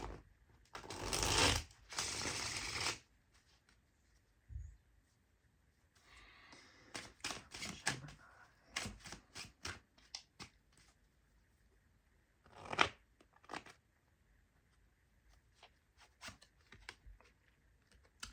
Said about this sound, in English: let me shuffle the cards and see what comes out for you